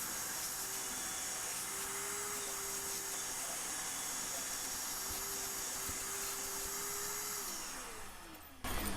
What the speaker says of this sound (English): you're going to go ahead and turn on your vac and suck all that up.